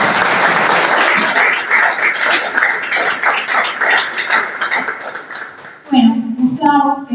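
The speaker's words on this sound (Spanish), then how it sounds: "Un aplauso para Juan Carrá." Audience applause for author Juan Carrá fills a book presentation, a loud, dense spread of many hands clapping that runs for several seconds before giving way to a voice speaking.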